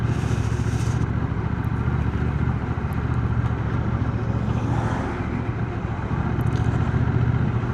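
A 2025 Honda CMX1100 DCT motorcycle engine drones steadily and loudly while riding, a constant close rumble with wind noise and no talk over it.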